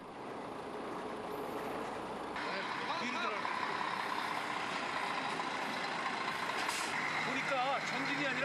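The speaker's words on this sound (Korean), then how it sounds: "짐을 가득 실은 대형 트럭이 줄을 서서 들어갑니다." A large, fully loaded truck engine rumbles steadily while reversing into a tunnel in Cappadocia, Turkey, with intermittent beeping and a voice talking over the heavy drone.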